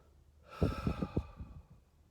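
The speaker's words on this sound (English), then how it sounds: "take a few deep breaths, and at the base of your breath, hold it for a second" Deep meditative breath drawn in and let out, a close, hushed airflow with a few soft puffs and a faint sigh-like release, alone without speech.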